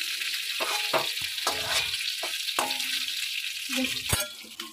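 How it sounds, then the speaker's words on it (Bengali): Shrimp fry in a pan for restaurant-style mixed fried rice, a steady sizzle broken by repeated scraping and stirring strokes of a utensil against the pan, close and fairly loud. "এখানে চিংড়ি মাছগুলোও ভাজা হয়ে গেছে"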